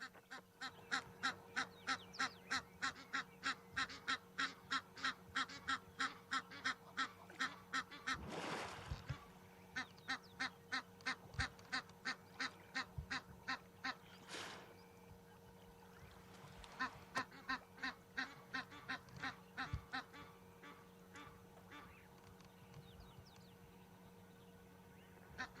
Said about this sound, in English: Those noisy Egyptian geese at the back.